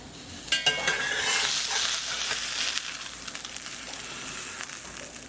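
Pecan-crusted fish fillets fry in a pan with a bright, steady sizzle and a few clattering utensil sounds near the start, close and unaccompanied by talk.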